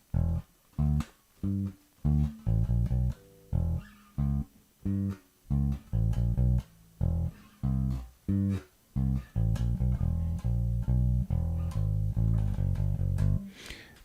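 Deep, punchy bass guitar notes play a steady rhythmic groove on their own, close and loud, with short gaps between phrases before running continuously.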